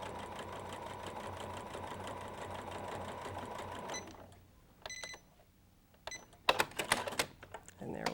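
A sewing machine runs steadily while stitching a tote bag, a fast even whirr for about four seconds, then stops and gives way to a few short handling clicks and rustles, with someone talking nearby.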